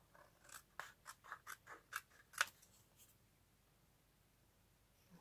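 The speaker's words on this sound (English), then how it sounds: "just cutting it out with my scissors" Scissors snip through matte gold cardstock in a quiet room, about eight crisp, close cuts in a quick regular rhythm, followed by near silence.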